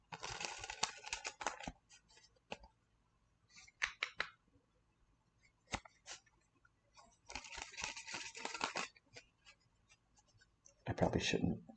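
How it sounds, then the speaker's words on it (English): Bursts of rapid papery riffling and flutters as playing cards are shuffled, several rounds with pauses between, close and fairly quiet, with brief clicks scattered through. "I probably shouldn't shuffle cards. You're going to hear that and think, what's he doing?"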